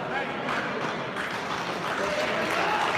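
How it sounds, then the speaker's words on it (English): Basketball crowd from Crane and Reed Spring applauding an injured player, a sustained wash of clapping from the gym stands, steady and moderately loud throughout. "So both the Crane and Reed Spring faithful will give Cooper a round of applause."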